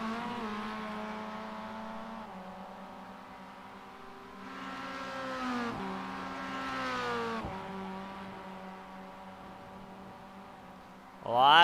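Spec Miata race cars lapping Road Atlanta, engine notes rising and falling through shifts with a steady harmonic drone, then a louder car sweeping in at the end; faint talk sits underneath.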